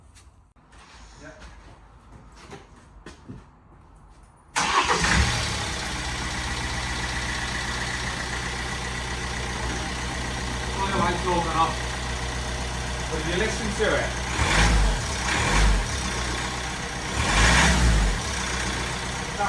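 A noisy Hyundai ix35 engine starts after a quiet stretch and runs on at steady volume with rough knocking and rumbling, up close, while someone talks over it.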